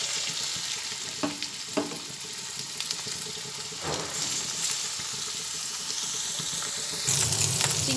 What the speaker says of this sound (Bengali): প্রথমে আমি এখানে চিংড়ি মাছটা ভেজে নেব